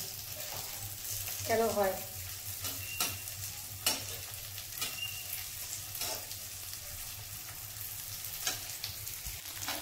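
Bitter gourd frying in a little oil in a home kitchen wok, a soft, steady sizzle with occasional scraping stirs and clinks, while someone speaks briefly over it.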